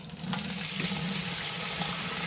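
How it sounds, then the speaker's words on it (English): Blackcurrant wine pours steadily through fine and coarse mesh into a bucket, a continuous close splashing flow with a low hum underneath. "I'm going to start pouring."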